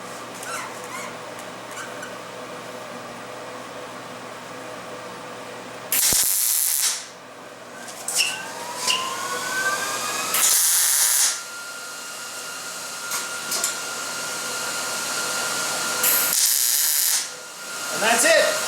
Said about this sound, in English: use some non-stick cooking spray